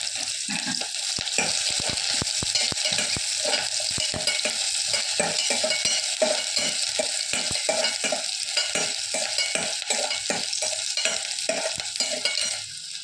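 A large onion fries and sizzles in hot oil, with a constant bright hiss and frequent scraping stirs of a spoon throughout.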